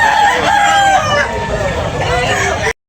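A loud rooster crows close by in one long drawn-out call at a gamefowl sale, with faint background chatter from a crowd.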